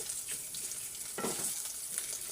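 Pork adobo sizzles and crackles in its own rendered fat, a steady close frying hiss with a brief louder burst partway through, no voices.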